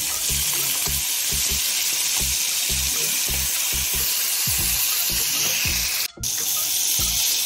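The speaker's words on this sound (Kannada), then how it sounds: "ತೆಂಗಿನ ಎಣ್ಣೆ ಬಿಸಿ ಆದಾಗ ನಾವು ರೆಡಿ ಮಾಡಿರುವಂತಹ ಮೊಟ್ಟೆನ ಇದಕ್ಕೆ ಹಾಕಿಕೊಂಡು ಫ್ರೈ ಮಾಡಿ." Eggs fry in hot coconut oil, with a continuous bright sizzle, close and loud, and a series of soft rhythmic knocks underneath, broken by a short gap near the end.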